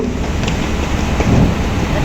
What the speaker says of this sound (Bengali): দেখতেই পাচ্ছেন পর্যাপ্ত পরিমাণে বৃষ্টি হচ্ছে এবং নদীতে অনেক ঢেউ